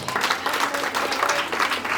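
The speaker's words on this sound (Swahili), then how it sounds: "Makofi mazuri kwa Yesu." A church congregation applauds, a thick, even roar of many hands clapping together that fills the room throughout, loud and sustained without pauses.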